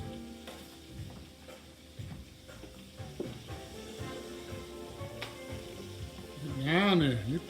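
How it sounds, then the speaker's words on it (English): Liver fries in a hot pan, a low steady sizzle with stirring and clinks, while people talk over it throughout. "this is liver that I'm cooking up right here, and then I'm going to add my onion later"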